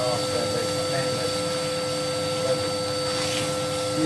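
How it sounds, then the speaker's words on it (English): A Hoover vacuum cleaner runs steadily while a tiled Edwardian arched back panel and hearth are cleaned, a constant close whine with a hum underneath and no break over four seconds. "my Hoover doesn't last forever, it's not endless."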